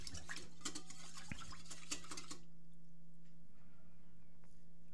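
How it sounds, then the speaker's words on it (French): Spoon clinking and scraping in a bowl while mixing paprika, garlic powder and hot sauce, busy for the first two seconds then tapering to quiet, faint handling sounds. "Ensuite, on mélange le tout."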